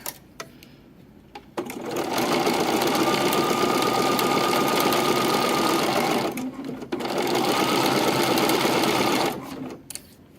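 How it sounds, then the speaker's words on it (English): A sewing machine stitches a tiny zigzag on lacy lingerie fabric, running steadily up close in two long bursts with a short pause between them, then stopping. "So I'm just doing this tiny little zigzag."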